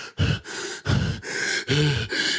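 A voice imitates shallow, stressed breathing: a series of four or five quick, loud breathy gasps in an uneven rhythm, close to the microphone, with no other talk.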